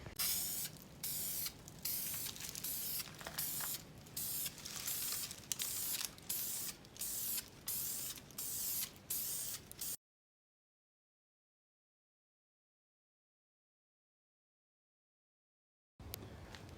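Aerosol spray paint hissing onto Mustang car parts in repeated short bursts, each blast loud and close with brief gaps between, stopping for several seconds of silence before another spray begins.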